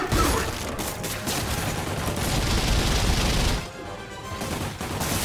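Heavy, sustained gunfire in the Wilson Fisk boss fight of Spider-Man Remastered, a loud dense barrage of rapid shots that briefly drops away before resuming, with no speech.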